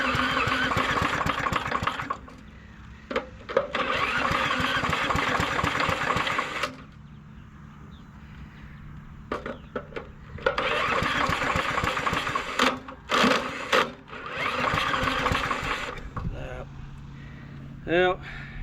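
An old push lawn mower engine sputters to life after priming, running in rough uneven bursts that cut out and restart, with people talking nearby during the pauses.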